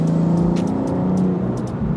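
A BMW G87 M2 twin-turbo pulls hard in fourth gear from about 3,000 rpm, its engine note droning steadily and rising in pitch, loud and close throughout.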